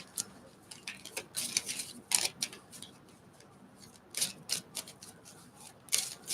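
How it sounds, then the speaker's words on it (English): Stiff tarot cards being shuffled by hand, irregular bursts of crisp riffling and slapping close to the microphone with short quiet gaps between them, and no talking. "These cards are really hard to shuffle."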